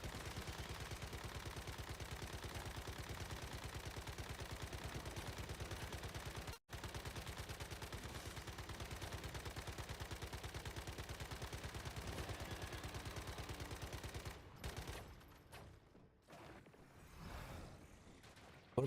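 Relentless rapid gunfire in the video game Once Human, a dense continuous rattle of shots that breaks briefly once, then thins into scattered bursts and quieter pauses near the end.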